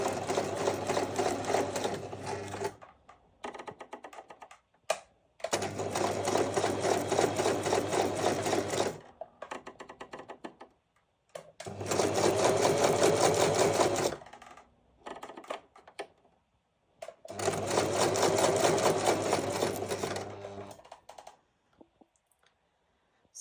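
A sewing machine stitches paper in four long runs of rapid mechanical chatter, each several seconds long, with short quiet pauses between them. Each run is close and steady.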